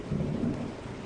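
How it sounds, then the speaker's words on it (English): Thunderstorm with rain: a low, rolling rumble of thunder over a steady wash of falling rain, heard alone for about a second. "This is a blessing for the rains."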